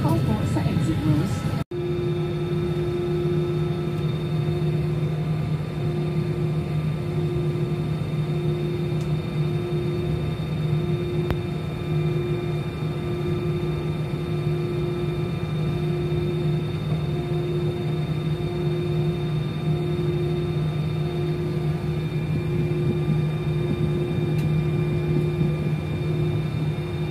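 Inside an airliner cabin during an early-morning takeoff, a loud, steady engine drone and broad rushing roar carry a constant hum throughout, with a brief click near the start.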